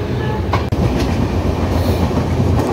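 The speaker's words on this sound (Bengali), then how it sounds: "খুর্দা রোড ক্রস করে আমাদের ট্রেন এখন বেশ ভালো গতি নিয়েছে।" Loud, close interior rumble of a train running at high speed on the Kolkata to Puri line past Khurda Road, with steady rail clatter and a brief dip in level.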